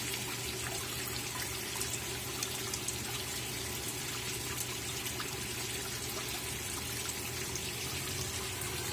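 A Consul 13 kg Maxi Economia washing machine (CWE13AB) fills with water, a steady, continuous rush and trickle of pouring water heard close up and alone at an even level throughout.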